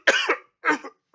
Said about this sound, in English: I'm sorry you're going to get this cough in this video